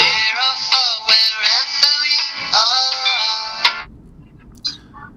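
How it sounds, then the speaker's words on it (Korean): Outgoing telephone call placed live on air during a broadcast, a repeated electronic ringback tone pulsing for about four seconds, loud and close, then cutting off into quiet room tone with a brief click. "생방송 중에 실제로 명태균 씨하고 전화 통화를 한번 시도한다."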